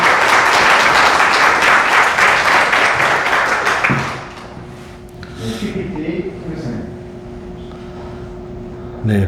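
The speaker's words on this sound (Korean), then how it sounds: "우리 선교사님 나오실 때 힘차게 격려의 박수 보내주시기 바랍니다" Church congregation applauding to welcome a missionary during a combined worship service, a loud dense burst of clapping that fades after about four seconds, then quieter room noise.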